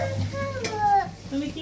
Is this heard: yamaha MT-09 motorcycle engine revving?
no